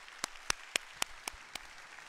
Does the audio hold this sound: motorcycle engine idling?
no